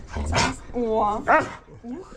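A dog gives a few close barks and yips, one sharp bark up front, then higher whining yelps, with people talking around it.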